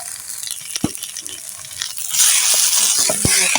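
Ghetkol bhaji frying in hot oil, stirred in a pan, with a steady crackling sizzle, brief clanks of the utensil against the pan, and louder spattering toward the end.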